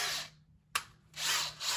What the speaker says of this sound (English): Make sure you set your drill to the first speed.